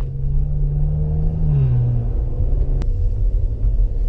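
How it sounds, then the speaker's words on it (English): A Maserati Levante S twin-turbo V6 rumbles loudly through its exhaust, a deep sustained drone with a falling pitch sweep midway and a sharp click near the end. "Not only is that twin turbo V6 entertaining with the noise that comes out of the exhaust"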